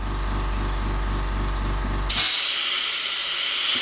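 An airbrush sprays paint around a stencil on an owl artwork, a steady close hiss that starts with a low pulsing compressor hum, then switches into a brighter, louder continuous spray with no voices.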